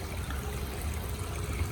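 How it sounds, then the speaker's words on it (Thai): A small waterfall beside a giant gourami fish pond at a cafe in Pattaya trickles and splashes steadily, a soft continuous water wash close by with no talk. "เป็นน้ำตกเล็ก ๆ นะครับ"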